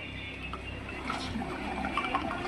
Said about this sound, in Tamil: வச்சுட்டு 20 லிட்டர் ஆர்வோ வாட்டர் ஊற்ற போகிற பாருங்கள்.